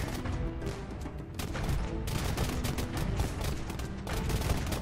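Dense volleys of musket and gunpowder fire in Age of Empires II, with Slavs fighting Burgundians and hand cannons and artillery in a base raid. Overlapping cracks rattle steadily and loudly throughout, with no voices.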